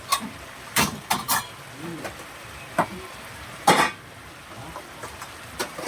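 Vegetables and brinjal fry in a pan under a soft, low sizzle, interrupted by sharp, irregular bursts of spoon-on-pan stirring scrapes and clatters, close by.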